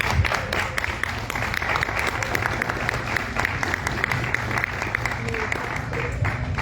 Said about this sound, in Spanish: Por favor, póngase de pie para darle un gran aplauso.